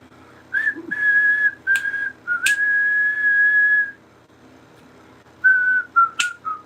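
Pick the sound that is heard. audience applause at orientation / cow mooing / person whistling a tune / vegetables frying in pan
person whistling a tune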